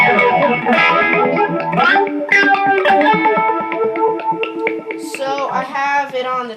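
A Moog Moogerfooger 12-stage phaser, its sweep driven by a triangle LFO, colors a bright tonal sequence of distorted, sequencer-like notes that shift and swirl, loud and close, with no voice.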